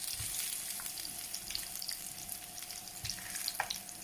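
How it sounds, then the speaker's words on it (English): Potato slices for tartiflette fry gently in vegetable oil in a pan, giving a faint, even hiss that carries on throughout with a few soft knocks. "I'm just going to drop those in the pan and give them a little bit of colour."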